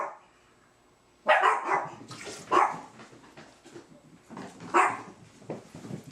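Dogs bark repeatedly at someone arriving at the door, loud close barks in three main bursts with yips and whimpers between them, heard without talk.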